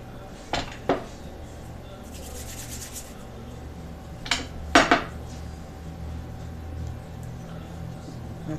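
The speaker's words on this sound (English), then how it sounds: "I think I'm going to need to mix up a little bit more epoxy brand epoxy." Epoxy being mixed, with a few short scraping and clinking strokes of a stick against a container, spaced apart over a quiet background.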